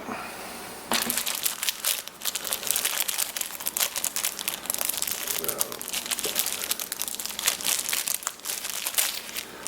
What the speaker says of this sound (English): let's get out of the plastic